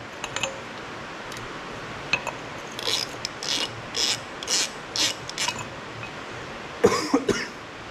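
Inner nut being worked off the front Dana 25 axle of a 1959 Willys Jeep CJ-5, a series of short scraping, ratcheting metal clicks in small bursts, fairly faint and close, ending with a louder clatter.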